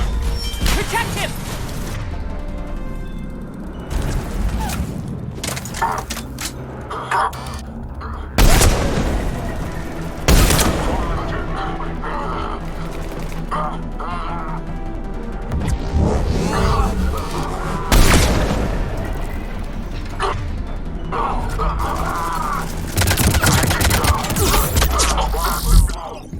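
Sniper and weapon fire in a Mass Effect 3 Legendary Edition firefight: repeated sharp gunshots and heavy impacts scattered throughout, with crashes and booms amid busy combat noise and voices calling out.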